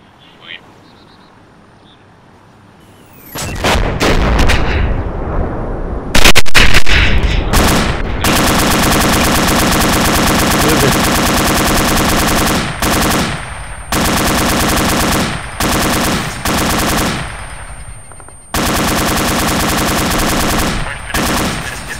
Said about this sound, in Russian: Чё за стрельба? Кто стреляет на базе?